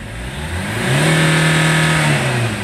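A Chevrolet Captiva engine with low power revs up during an RPM check, rising from idle to a steady high-revving drone, holding briefly, then settling back down; loud and close, no talking.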